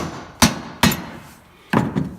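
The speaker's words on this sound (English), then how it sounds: "now I'm just put a couple whacks with that with my hammer" A hammer strikes the handle of a screwdriver while repairing the recoil pull start of a small engine: three sharp, loud metallic whacks, separated by irregular pauses, with no talking.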